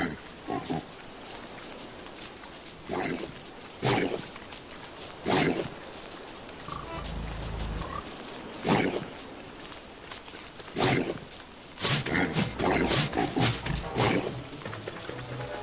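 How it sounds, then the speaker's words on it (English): Pigs in the survival video game Don't Starve grunt and squeal agitatedly in repeated loud bursts, clustering into rapid overlapping calls near the end over a steady game background. "Seem to upset the pigs."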